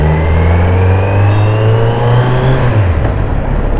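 Kawasaki Z900 motorcycle engine revving up near a parking area, a loud steady drone whose pitch climbs gradually before dropping off near the end, with no talking.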